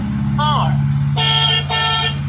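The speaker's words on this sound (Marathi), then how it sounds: "आता बघ आप्पाची कार" A car horn sounds in two sustained honks over a steady low engine rumble, with a brief voice-like chirp just before the first honk.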